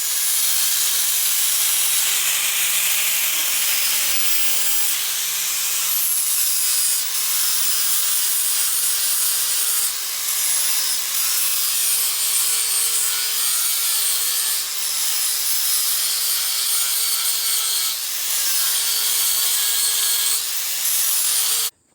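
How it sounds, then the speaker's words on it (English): A detail sander whirs continuously against wood, a loud steady buzzing hiss with slight shifts in pitch as it moves over the surface. "I'll probably use just a detail sander for that."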